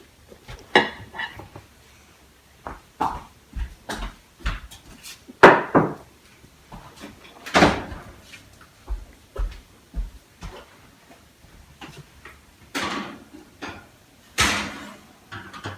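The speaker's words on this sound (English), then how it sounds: "put my two pans in the oven for 23 to 28 minutes" Two baking pans are slid into a home oven and the door is shut, giving a series of sharp metallic clanks and knocks with quiet gaps between, ending in the thud of the closing door.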